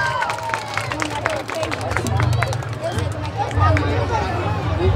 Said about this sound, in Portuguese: Quem gostou, bate palmas!